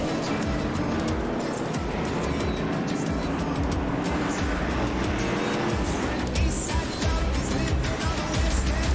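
NASCAR Cup Series field at Watkins Glen rolling off in a dense, continuous roar of many race car engines, steady and loud throughout, with faint voices beneath.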